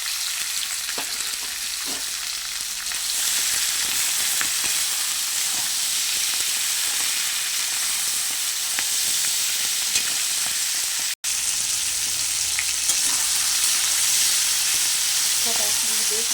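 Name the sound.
frying Malabar spinach with pumpkin, eggplant and potato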